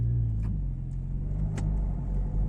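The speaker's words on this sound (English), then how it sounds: "Garda car right behind." An Irish Garda police car drives by on a country road with horses nearby, giving a steady low engine rumble and road roar that stays close and fairly loud throughout, with no talking.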